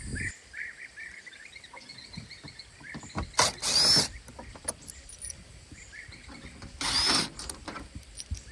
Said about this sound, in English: I'm going to take this Phillips head screwdriver and I'm going to take the screws out of the cover here